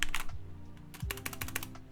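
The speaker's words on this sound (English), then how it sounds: "So this is a mechanical keyboard." Quick bursts of typing on an unlubed TKL mechanical keyboard with red linear Cherry switches, close and clacky with sharp rattling keystrokes in short uneven clusters, nothing else heard.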